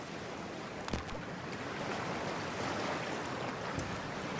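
Diving into freezing water in Cyberpunk 2077, heard as a steady broadband wash of churning, rushing water with a brief splash-like burst near the start and another near the end, continuous and fairly loud, with no talk.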